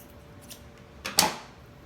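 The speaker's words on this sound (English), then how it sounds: "All right, I'm on my last cut." Scissors make a single short, crisp snip through pieces of a weaving in a quiet room, close and moderately loud against faint background noise.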